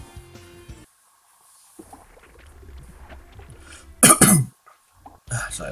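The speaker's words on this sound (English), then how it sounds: "Bit of a cough." A single harsh, close cough bursts out loudly, followed by a brief second throat sound, breaking a quiet stretch of faint Sonic Adventure game music and sound effects.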